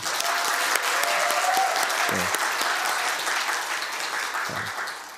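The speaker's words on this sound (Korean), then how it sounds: "박수 한번 하십시다." A church congregation applauds during a Sunday worship service, a dense, steady wash of clapping from many hands that fills the room for about five seconds before gently tapering off.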